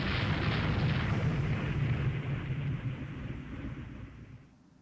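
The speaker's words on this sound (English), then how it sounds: "But we can do a little torpedo strike." Rumbling naval torpedo explosions in the naval strategy game Rule the Waves 3: a broad, loud roar that holds steady, then gradually fades out.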